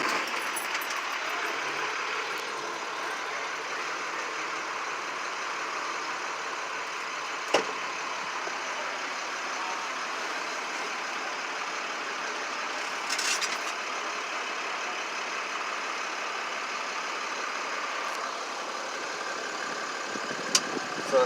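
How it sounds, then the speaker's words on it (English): A truck's diesel engine idles steadily with a low continuous rumble, broken by a sharp click and a brief hiss of air, heard from inside the cab. "Now I'm going to start the engine."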